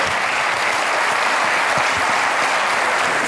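A TV studio audience on a French entertainment show applauds loudly and continuously, a dense unbroken wash of clapping with a few cheers mixed in.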